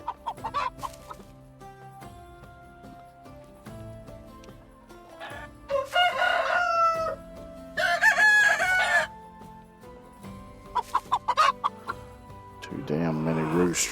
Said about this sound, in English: Too damn many roosters.